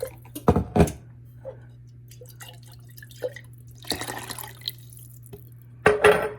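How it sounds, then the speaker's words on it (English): Water splashes into a glass jar as it is rinsed while cabbage rolls are being made in a kitchen. Short pouring and sloshing bursts come near the start, in the middle and at the end, with a low steady hum beneath. "How about I put the water in there to rinse the jar?"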